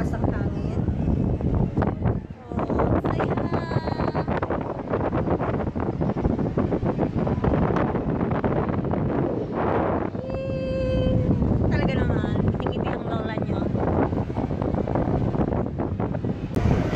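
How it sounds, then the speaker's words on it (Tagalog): Strong wind buffets the microphone in a continuous loud roar at the Enchanted Kingdom theme park, while a person talks over the blustering. "mga ganyan kalakas ang hangin"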